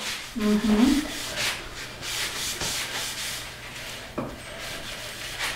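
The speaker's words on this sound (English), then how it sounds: "We are going to buff this out." A cloth rubs and buffs the finish on a wooden floating vinyl record display, giving repeated soft, close swishing strokes with a brief knock partway through.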